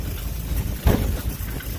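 A Suzuki Samurai, used as a tractor for windrowing in a field, putters slowly along in first gear with a steady low engine rumble and one brief louder surge midway.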